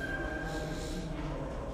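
A subway train on the D line toward Coney Island: a steady low rumble with a faint high metallic whine from the wheels and rails, continuous and moderately distant.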